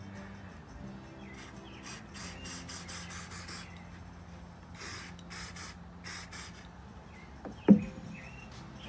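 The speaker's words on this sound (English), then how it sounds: "Okay, so I'm going to spray a little on this back here." Several short hissing bursts of glue accelerator spray in quick succession, close and fairly soft, followed by a brief sharper sound near the end.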